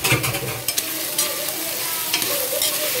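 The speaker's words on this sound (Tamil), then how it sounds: "இப்போ நம்ம பொடி பொடியாக கட் பண்ணி வச்சிருக்க உருளைக்கிழங்கையும் ஆட் பண்ணி ஒரே ஒரு 1 மினிட்" Raw, finely chopped potatoes sauté with ginger and garlic in a hot pan, giving a loud, steady sizzle with scraping stir strokes throughout, and no voices.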